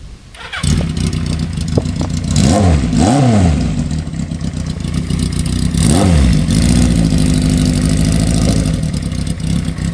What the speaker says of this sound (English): Let me give you a quick riding demo on it. Do a drive-by.